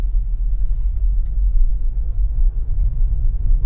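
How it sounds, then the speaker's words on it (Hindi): A Volkswagen Taigun GT's engine is revved as the accelerator is pressed in drive, giving a deep, steady rumble from inside the car with no voices. "जैसे मैं एक्सीलेटर दूंगा"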